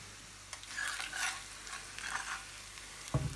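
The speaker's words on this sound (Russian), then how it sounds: "Вот так вот пару минут жарится с этой стороны" Hash brown potatoes frying in oil in a pan, a soft steady sizzle with a few louder crackling swells and a sharp clatter near the end, with no talking.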